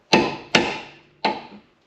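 Three sharp metallic hammer strikes on a punch stake a Subaru Forester CV axle nut to lock it: two quick blows, a short pause, then a third, each ringing briefly and close up.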